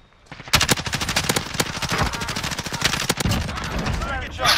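Sustained automatic machine gun fire in the Warzone video game comes in long rapid bursts of loud, close shots, with players' excited voices talking over the shooting.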